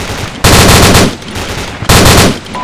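A C6 machine gun fires two loud, close bursts during a military field exercise, each a rapid stream of shots with a short pause between them.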